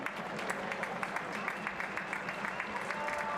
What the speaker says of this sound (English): Manuel Feil, he's going to get a round of applause here for sure.